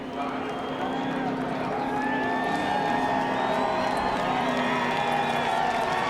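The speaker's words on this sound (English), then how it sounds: "A few boos, but for the most part, a lot of cheers" A crowd at a NASCAR race at Dover Motor Speedway roars in sustained cheering mixed with some boos and whoops, a dense, loud wash of voices from the stands.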